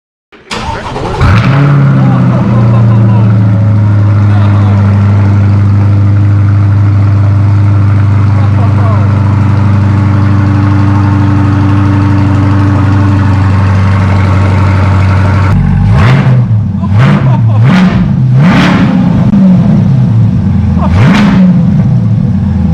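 A C8 Corvette with a Corsa Xtreme exhaust cranks and fires into a loud, deep idle, then after a pause barks through several sharp revs, close and very loud.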